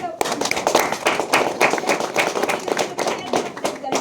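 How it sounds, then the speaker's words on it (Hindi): Clapping from a church congregation during a Hindi sermon on December 31, 2025, a dense run of claps under and between a preacher's voice, steady and fairly loud throughout. "ताली बजाइए"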